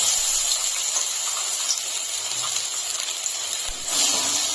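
Carrot paste sizzles in hot ghee in a wok, giving a steady, close, hissing fry that holds evenly throughout with no voices over it.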